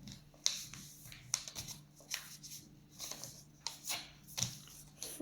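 Sheets of paper are folded and creased into a paper airplane, giving soft crisp rustles and sharp pressing crackles in irregular bursts, close and quiet.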